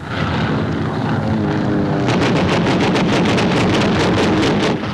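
Japanese WW2 warplanes roar over an American naval task force off Saipan in the Marianas, a loud, dense, continuous engine drone with rhythmic pulsing joining midway, recorded in a rough wartime newsreel style.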